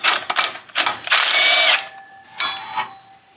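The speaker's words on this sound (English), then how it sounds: "So all I gotta do is just take this crank pulley off." Ratchet working on the crank pulley of a 1980 Chevy Caprice with a 350 engine, a close run of quick clicking bursts followed by a longer continuous ratcheting stretch and a couple of brief clicks after a pause.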